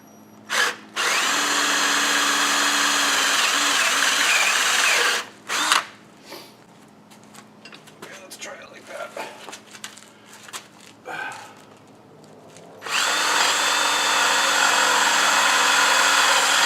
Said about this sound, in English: and drill that through.